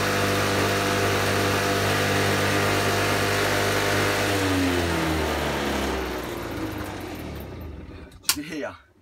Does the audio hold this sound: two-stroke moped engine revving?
yes